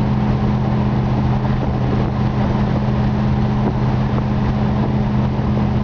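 A 1963.5 Ford Galaxie 500 Fastback runs on the road, heard from inside the cabin as a steady, loud low engine drone with constant road rumble.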